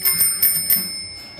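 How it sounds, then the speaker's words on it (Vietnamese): A bicycle bell on a child's bike rings in several quick metallic dings, close and bright, with a lingering shimmering tone fading after the last strike. "Nhấn chuông, nhấn chuông."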